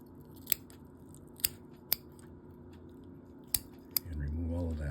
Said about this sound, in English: And we're going to cut this collarbone off too.